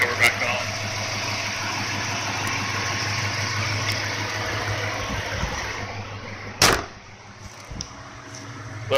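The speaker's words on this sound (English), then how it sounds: "that's for my 2014 Charger Hemi exhaust." A 2014 Dodge Charger R/T with a Hemi V8 and loud full aftermarket exhaust idles steadily with a deep, even rumble, broken near the end by a sharp knock like a door closing.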